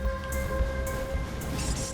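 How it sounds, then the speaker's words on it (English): A train at Grand Central Terminal losing speed, a low rumbling rail drone with steady tonal hum and metallic squeal-like tones, intermittent hissing bursts over the top, heard alone at moderate level. "Train 1427 is losing speed and falling behind its arrival time."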